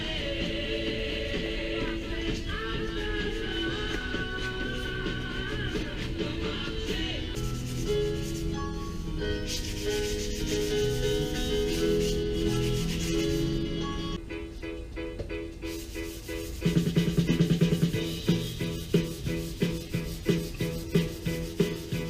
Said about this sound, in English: so now I sand some more.